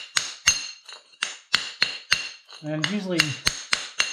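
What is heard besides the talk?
wide flat chisel breaking snap ties off concrete wall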